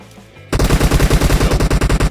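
Rapid automatic gunfire in the battle-royale game PUBG Mobile, a loud close burst of evenly spaced shots starting abruptly after a quiet moment and continuing steadily to the end.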